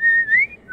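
A game character in Underground Blossom attempts a whistle: one short, thin whistled tone that wavers and slides upward, loud and close, with no speech over it.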